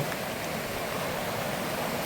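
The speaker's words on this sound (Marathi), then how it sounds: "आणि हा नदीचा प्रवाह" Steady, continuous rushing of a monsoon-season jungle river, the Kalera river in Konkan, India, a broad even wash of water with no breaks and no voices.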